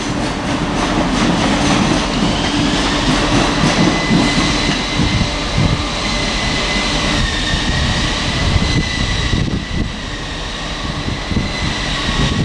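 A train pulls out of Edinburgh Waverley station with a loud, sustained engine drone and rumbling wheels, while tonal whines rise and shift as it gathers speed, with no talk over it.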